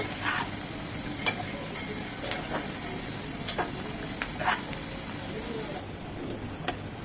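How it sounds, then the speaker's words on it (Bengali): Onions frying in oil for beef kala bhuna give a steady, close crackling sizzle, broken by scattered utensil clicks and scrapes. "এরকম একদম লাল লাল করে পেঁয়াজটা ভাজা হয়ে গিয়েছে"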